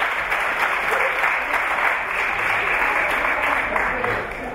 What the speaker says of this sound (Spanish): Aplausito a los campeones de Madrid y Castilla-León.